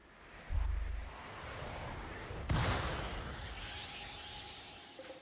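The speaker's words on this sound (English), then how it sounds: "Inferno cannon. Dang it." An inferno cannon in Rimworld fires in two distant, booming thumps a couple of seconds apart over a windy, rushing background.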